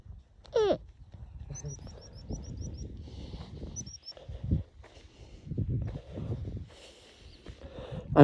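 A series of high, rapid African fish eagle calls rings out over rustling and low background noise, with a few short chirps scattered through the clip.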